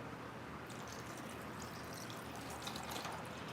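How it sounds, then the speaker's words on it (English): Water poured in a continuous, even rushing splash that lasts the whole moment, close by and with no one speaking. "Pour this water in here, you hear me?"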